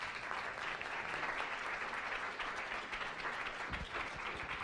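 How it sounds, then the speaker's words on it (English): An audience at a science cafe applauds after a talk, dense steady clapping from many hands filling the room at even loudness throughout. "Let's give him a round of applause."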